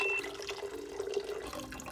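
Cooked pasta water pours steadily into a kitchen sink, a continuous soft rushing splash with no voices over it.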